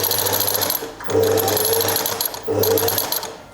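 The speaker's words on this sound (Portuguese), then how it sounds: "Depois viro e então vou cozer de cima a baixo, unindo as duas componentes" Sewing machine stitching the seam joining a skirt front to a pocket facing, loud rapid whirring in two close runs separated by short pauses, with no talk.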